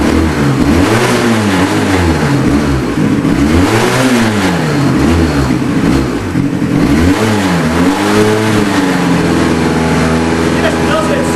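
A smoky, unhappy-running motorbike idles and revs repeatedly in a workshop, its loud engine note rising and falling in rhythmic swells close by, with someone talking over it.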